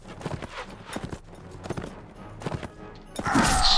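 Horse hooves in the Mount and Blade video game, a brisk uneven clip-clop of thudding strikes, close and moderately loud, ending in a sudden louder burst of crashing combat noise.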